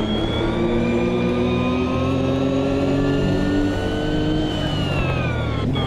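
Engine note of a Lotus race car in Automobilista 2, a loud steady droning whine that slowly rises and eases in pitch as the car runs at speed, with no talk over it.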